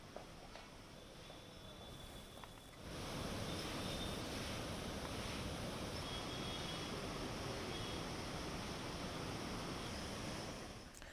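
The flooded Godavari river rushes past in a steady broadband roar, quieter at first and swelling louder after about three seconds, with no talking.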